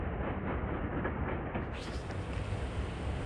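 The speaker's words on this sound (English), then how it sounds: "this is train 4842, bound for Fox Chase" A SEPTA commuter train rumbles past Wayne Junction with a steady, loud roar of wheels and cars on the rails, continuous throughout the brief stretch.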